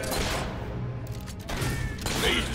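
Rapid gunfire from a fight against creatures in the Fable 3 video game, dense overlapping shots and impacts sounding loud and continuous throughout, briefly easing before another burst.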